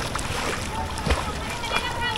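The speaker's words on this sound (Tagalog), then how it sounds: "Ganito lang yung langoy ko." Swimmers splash in river water at a river park, with soft sloshes and one sharper splash near the middle, heard under nearby talk.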